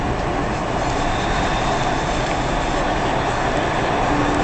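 A Dubai Metro electric train runs along, heard from inside as a steady, loud broadband rumble and hum that holds constant throughout.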